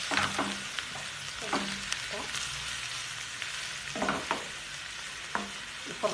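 Chopped onion frying in oil for a quiche filling, a steady close sizzle broken by occasional scraping stirs, with no voices.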